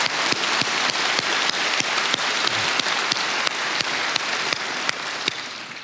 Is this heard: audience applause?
yes